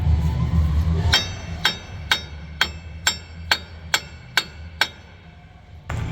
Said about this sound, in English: To replace it, you need a hammer like this.